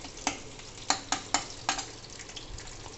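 A ladle stirs baingan bharta in a pan, giving several distinct scraping clacks at an irregular pace over a low, constant sizzle.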